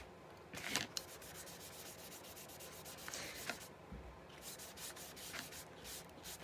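Color being rubbed by hand onto non-watercolor paper for a junk journal, close scratchy back-and-forth rubbing strokes in uneven bursts with a soft thump, no talking.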